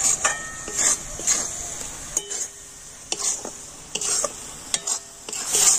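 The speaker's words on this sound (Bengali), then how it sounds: "আর এখন আমি এইভাবে নাড়াচাড়া করে পুরটা তৈরি করে নেব।" A spatula stirs and scrapes a coconut and cardamom pitha filling in a pan, giving repeated close scraping strokes over a soft steady sizzle.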